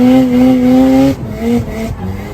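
A rotary-engined Mazda screams at high revs in a loud sustained whine, then drops off sharply into choppy throttle blips and lower engine bursts, close and forceful, as when racing or drifting.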